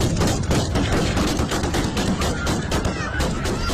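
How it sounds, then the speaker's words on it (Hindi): Gunfire into a crowd at Kabul airport, heard as a dense run of sharp cracks and bursts against a loud, chaotic crowd din with shouting. "काबुल एयरपोर्ट के इस वीडियो में तालिबानी आतंकवादी हजारों लोगों की भीड़ में अंधाधुंध गोलियां चला रहा है।"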